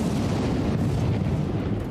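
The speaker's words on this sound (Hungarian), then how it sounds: "csinálj légy szíves egy frankó kis láncvillámot" A chain lightning spell in King Arthur: Knight's Tale lands as a loud, sustained crackling roar with a heavy low boom and no speech.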